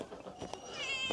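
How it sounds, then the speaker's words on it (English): Domestic cat meowing up close indoors, a short, faint, whiny cry with a rising tonal tail, heard alone. "What are you whining about, cat?"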